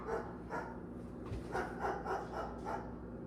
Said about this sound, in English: My dogs just started barking.